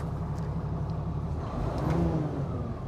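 Engine of a luxury towing rig with a 525-horsepower motor revs up steadily, a deep continuous rumble swelling slightly near the middle and staying loud throughout, with no talk over it.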